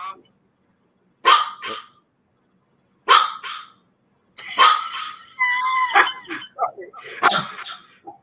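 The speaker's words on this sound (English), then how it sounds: "I'm hearing our Chihuahua. She barks here" A Chihuahua lets out a few sharp, high-pitched barks, spaced apart at first, then a quicker burst of yappy barking close by.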